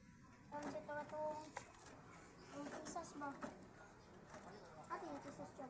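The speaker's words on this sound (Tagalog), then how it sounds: "Mga kalapatids." Pigeons cooing softly in a backyard coop, a few low repeated coos under a steady hum and faint background noise, with a voice mixed in at low level.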